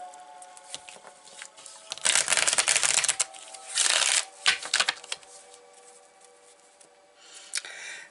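Tarot cards from a personal deck riffle and slap together in two loud bursts of shuffling, followed by softer handling and shifting of the cards.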